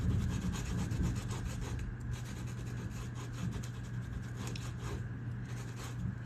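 Buffalo leather being roughed up before gluing, a close, steady scratchy rubbing and rasping that continues with little pause.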